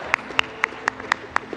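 An audience at Rwanda's Umushyikirano national dialogue gathering claps in a steady, evenly spaced rhythm, about six sharp beats over a second and a half.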